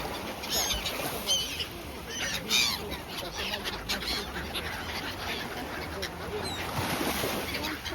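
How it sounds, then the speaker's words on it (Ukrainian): Ducks and other birds at a Black Sea beach in Chornomorsk, their honks and quacks repeating in scattered bursts over steady outdoor background noise, with people talking nearby. "І багато пташок сьогодні."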